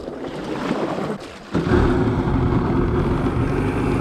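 A Yamaha Wavejammer 650 jet boat engine sputters at first, briefly dips, then catches and runs with a loud, steady close-up roar and drone that holds to the end.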